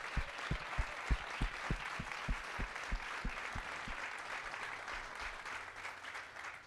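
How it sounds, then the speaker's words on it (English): Audience applause follows founders' pitches at a startup pitch night during an investment summit, a steady wash of clapping from a large crowd with some low thumps near the start, fairly distant and even throughout. "These founders deserve a massive round of applause. So together now. Let's hear it for them."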